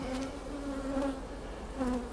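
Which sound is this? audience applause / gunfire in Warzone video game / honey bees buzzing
honey bees buzzing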